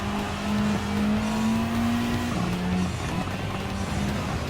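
The AMG Mercedes GT3 race car in Gran Turismo 7 holds a loud, steady engine drone, its pitch climbing gradually, dipping briefly at a gear change, then holding high again.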